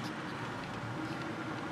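A car engine idles roughly after the Bank 4 Eliminator chip is installed, running on 87-octane fuel. It gives a steady, dense, close rumble with no clear pauses and no speech over it.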